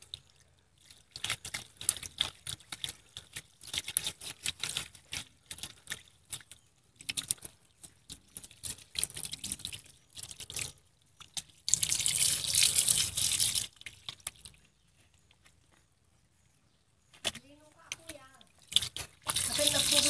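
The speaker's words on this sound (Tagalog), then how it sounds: "So now hugasan lang po natin." Running water from a tap rinses the roots and stem of an adenium plant being prepared for bonsai, splashing in intermittent bursts with a louder gush near the middle, along with brief dripping and handling sounds.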